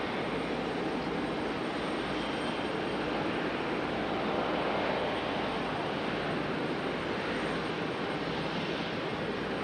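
A JetBlue airliner taxiing at Raleigh-Durham International Airport holds a steady, loud jet engine roar that swells slightly midway, with no one speaking.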